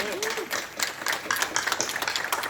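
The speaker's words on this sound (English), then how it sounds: "Let's have a big round of applause." An audience at an MOU signing ceremony between Jaipuria Institute of Management and the University of Denver claps, a short spell of scattered, fairly close hand claps that grows denser, with a voice briefly audible at the start.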